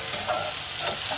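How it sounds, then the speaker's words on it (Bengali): A spoon stirs chopped tomatoes with salt in a hot pan for Bengali spinach curry, a soft steady sizzle with faint scraping strokes, close and fairly quiet. "নেড়ে চেড়ে নিচ্ছি।"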